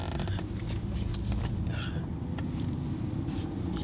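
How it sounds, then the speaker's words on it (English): Inside a Rolls Royce cruising down a road, a steady low rumble of road and engine noise fills the quiet cabin, with a few faint creaks and no talking. "we gonna take it down this road, see how smooth and how how luxurious Rolls Royce is"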